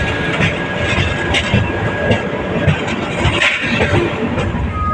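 A passenger train runs on rails at speed, a dense continuous rumble with rhythmic wheel clatter and brief squeals, steady and close throughout with no talk.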